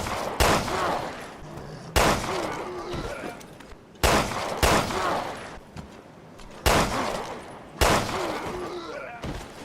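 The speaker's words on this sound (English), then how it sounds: "I am going to test the MPM on an afflicted" MPM gunfire aimed at an afflicted enemy in the video game Resident Evil: Revelations 2: about five loud, sharp shots spaced roughly two seconds apart, each with a ringing tail and scattered game effects between.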